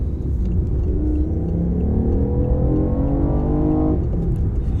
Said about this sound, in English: They are piping the engine noise through the speakers of the car to make it sound cooler.